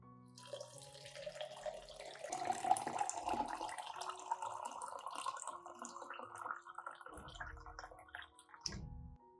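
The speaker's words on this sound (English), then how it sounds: "Add 500 milliliters of boiling water." Boiling water is poured from a container onto a mixture of rice powder and chopped garlic, making a close, steady trickling and splashing that runs for several seconds before tapering off into a few drips and a soft knock.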